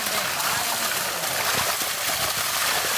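Water poured into spices being ground for village-style chicken biryani, a steady splashing trickle running continuously for a few seconds, with faint voices in the background.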